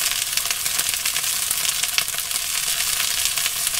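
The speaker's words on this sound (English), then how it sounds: "I'm cooking these quite high really, because the sausages, because it's a matter of browning them really." Sausages frying on high heat in a pan as they brown, a dense, close crackling sizzle that holds steady throughout with small pops scattered through it.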